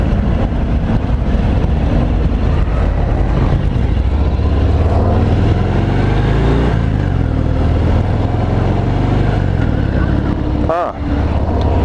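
A 2018 Harley-Davidson Fat Bob being ridden, its engine a continuous loud low rumble with rising and falling revs, overlaid by wind noise and a voice speaking over it.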